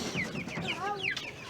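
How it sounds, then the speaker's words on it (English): Chickens cluck in quick, overlapping bursts at a Philippine chicken farm, several birds close by calling in short rising and falling notes. "So you can see the chickens are at different stages."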